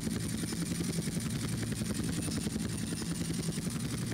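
A helicopter in the video game Grand Theft Auto: Vice City Stories, with a continuous loud rotor chop and engine drone pulsing steadily throughout the clip.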